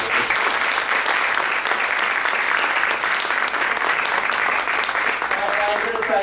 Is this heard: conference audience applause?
yes